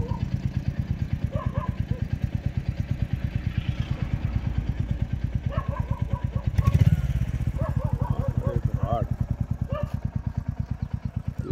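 A new Royal Enfield Bullet 350 motorcycle rides on the road to Mussoorie, its single-cylinder engine thumping in a fast, even, loud beat throughout, with faint voices and small clattering noises above it.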